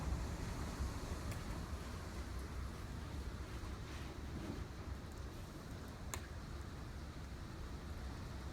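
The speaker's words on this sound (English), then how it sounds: "Look at the wind shear ripping through the patio" Strong hurricane wind rips across a patio in a steady, loud broadband roar, gusting and buffeting the microphone throughout, with no voices.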